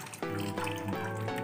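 Water poured over cactus potting medium, a steady close trickle and splash that runs continuously and alone throughout.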